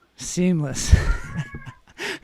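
A pet cat meows in a couple of drawn-out calls mixed with nearby human talk, close and fairly loud.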